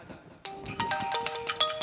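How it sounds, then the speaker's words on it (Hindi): A mobile phone rings with a bright electronic melody ringtone, a string of quick tonal notes, clear and close, with no speech over it. "इतने में छोटे बेटे रियाज अनीस का फोन आ जाता।"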